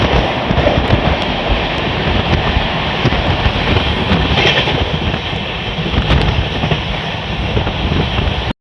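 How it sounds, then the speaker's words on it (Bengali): A train rushes along at top speed, a loud continuous roar with rattling wheels and rumbling carriages, steady throughout with no voices. "ঘুরে চলে যায় ট্রেন সর্বোচ্চ গতিতে"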